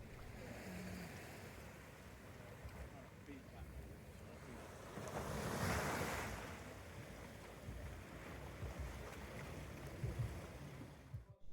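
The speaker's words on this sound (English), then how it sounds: "This is the harbour a bit later on, during a very high tide." Waves washing in St Ives harbour at a very high tide, a steady, soft outdoor wash of surf with wind noise and a gentle swell in the middle, quiet and without speech.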